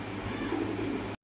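A pigeon coos nearby, with a low, rolling murmur that holds steady for about a second before cutting off abruptly.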